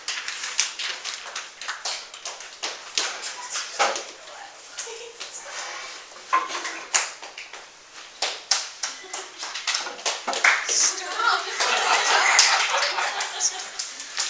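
An audience in a classroom or presentation setting claps as a presenter is called up, scattered hand claps coming in uneven bursts through the stretch, with children's voices and chatter alongside.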